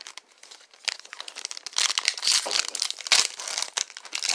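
A foil sports trading card pack is ripped open up close, quiet at first, then building into loud crinkling and tearing bursts with sharp crackles that keep going to the end.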